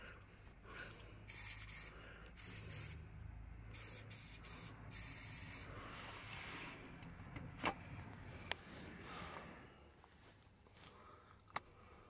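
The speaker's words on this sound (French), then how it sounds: "je vaporise le dissolvant de rouille sur les 3 boulons et le laisse agir environ 15 minutes" Rust remover sprayed onto three rusted bolts on an Audi A4, a quiet repeated hiss of aerosol bursts with a few small clicks and handling noises, no voices.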